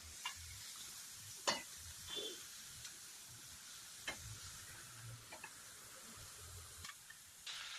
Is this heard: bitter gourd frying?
yes